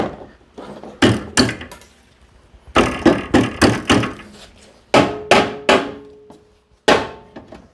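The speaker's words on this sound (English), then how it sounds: "Just give it a good little tap-tappy." A heat exchanger assembly being tapped into place on an Audi S4: loud, close, sharp knocks in quick bursts of two to five, separated by short pauses, with no talking.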